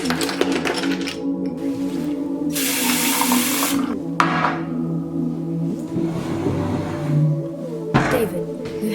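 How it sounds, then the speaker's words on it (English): Water running from a fridge dispenser into a glass, a sustained splashing and trickling stream with clinks and shifting pitch, close, while a voice speaks over parts of it. "Get yourself a glass of water from the fridge."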